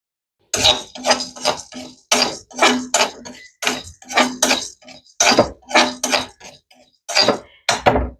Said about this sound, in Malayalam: തേങ്ങയിട്ട് വറുത്തെടുക്കാം